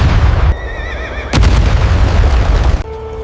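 Ottoman cannon bombardment of Constantinople, with loud booming blasts and a sharp explosive crack over a deep rumble, mixed with horses whinnying and neighing nearby.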